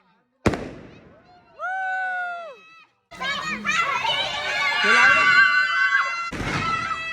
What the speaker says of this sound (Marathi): आम्ही एंट्रन्सलाच आहे ना फटाके फोडत बसलेलो आहे